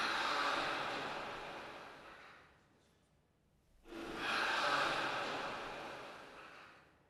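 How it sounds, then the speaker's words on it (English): A single collective breath from 79 volunteers, recorded for a piece of music, swells as a broad airy rush, fades to near silence, then rises again in a second long, soft breathy wave. "I also have the sound of 79 volunteers coming up and breathing one breath"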